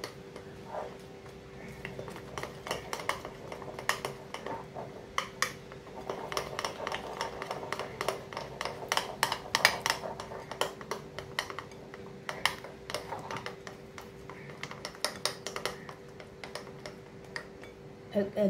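Thin batter for boondi being beaten in a bowl with a spoon, a quick irregular run of light clinks and scrapes against the bowl that goes on throughout, with a voice talking over parts of it.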